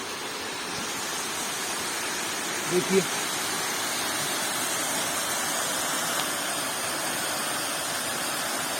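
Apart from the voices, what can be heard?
water flowing through irrigation channel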